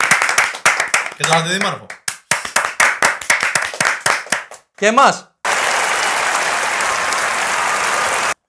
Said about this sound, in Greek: ένα χειροκρότημα εδώ για τον Δήμαρχο